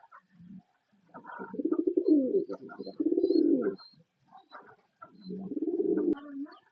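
A pair of Mundian pigeons coo up close in clear, separate bouts, each a rolling throaty phrase lasting about a second, with quiet gaps between and a few faint higher chirps.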